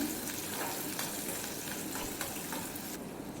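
Chopped onion and green chillies sauté in a pan for a Nagercoil-style theeyal, giving a soft continuous sizzle with light stirring, fairly quiet and with no voices.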